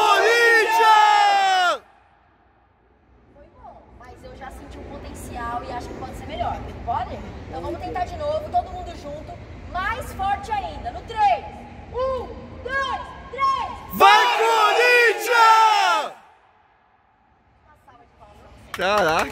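A stadium crowd at Corinthians' arena roars in a loud chant and cheer, starting with a big shout, swelling into mixed yelling and whoops, then a final loud burst of shouting before fading.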